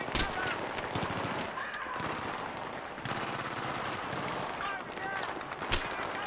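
Sustained gunfire in the Battlefield 3 campaign, rapid machine-gun bursts and sharp individual shots crackling through a loud, busy battle scene throughout, with a few especially punchy cracks standing out.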